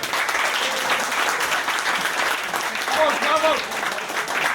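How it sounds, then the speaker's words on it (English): Audience applause at a fan event with football legends Denis Irwin and Clayton Blackmore, steady dense clapping filling the room throughout, with a faint voice rising briefly above it near the end. "a big round of applause for Legends XI as well"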